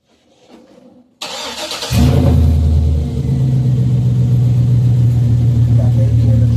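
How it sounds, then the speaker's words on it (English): A truck engine cranks over, catches and settles into a steady, loud idle rumble, close by after a moment of quieter background sound. "I'm going to start my truck because I know it's warming up out here."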